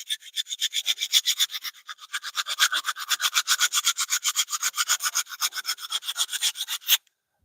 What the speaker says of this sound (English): just sanding it now, making it look a bit better.